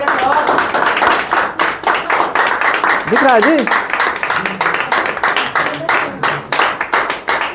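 Students in a chemistry class clap in a quick, regular rhythm, close and loud, while a teacher speaks briefly over the clapping.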